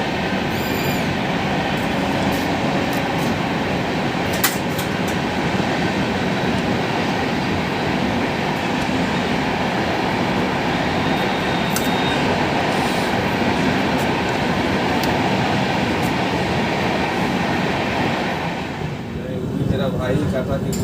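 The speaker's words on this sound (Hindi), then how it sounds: "अजमेर सियालदह एक्सप्रेस हमको ओवरटेक कर रही है, जो कि मात्र एक एक्सप्रेस कैटेगरी की ट्रेन।" The Ajmer Sealdah Express overtakes the Humsafar Express with a steady, loud rumble of rolling wheels and carriages heard from inside the moving train, while a voice talks over the noise.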